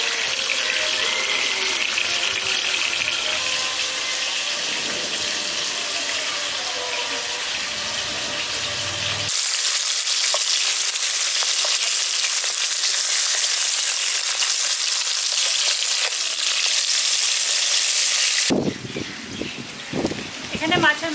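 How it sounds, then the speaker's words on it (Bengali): Fish fry in hot oil in a wok, turned over until reddish, giving a steady sizzle that shifts in character partway through, with a voice talking over it at times. "এবার মাছগুলো আমি উল্টে পাল্টে লালচে করে ভেজে নিচ্ছি"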